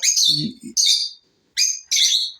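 A pet bird chirps and squawks loudly close by, several sharp shrill bursts with brief gaps, one mixed with a lower rasping call.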